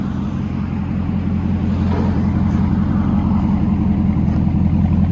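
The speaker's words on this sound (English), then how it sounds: "There's the muffler and resonator. The 5-inch tips gives it such a deep tone." Deep, steady rumble from a 2008 Hummer H3 Alpha V8 with straight-pipe true dual exhaust, muffler, resonator and 5-inch tips, loud and close, holding a constant throaty drone throughout with no talking.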